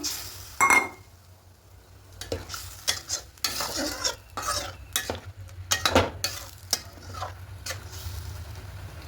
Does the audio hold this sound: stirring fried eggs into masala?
yes